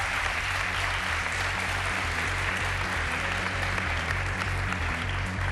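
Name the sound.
audience applause for the three performers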